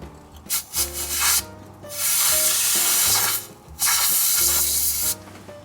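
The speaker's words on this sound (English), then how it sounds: "I'm gonna attempt to blow some of it out with compressed air" Compressed air blasts in several long, loud hissing bursts, blowing rat droppings out of a Dodge Viper's 8.0 V10 engine bay, with short pauses between bursts.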